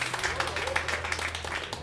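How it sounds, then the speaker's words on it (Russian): Audience clapping at a small chamber music concert after a prelude, a steady dense patter of hands close by with a low hum underneath and some voices mixed in. "Хлопаем, хлопаем, хлопаем."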